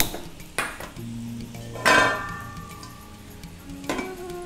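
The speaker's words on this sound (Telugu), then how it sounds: "సో ఇప్పుడు మనం ఈ స్టవ్ వెలిగించేసుకుని" A gas stove is lit in a home kitchen while making radish kofta, followed by a pan set down on the burner: sharp metallic clinks and pings at intervals, with a ringing clatter of cookware near the middle, close and alone.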